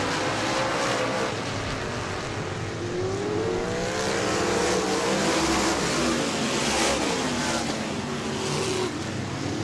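Sprint cars on a dirt track at Auburndale in the Southern Sprint Car Shootout Series, a pack of loud engines droning and rising and falling steadily as the field rolls around the track, without a break from start to finish.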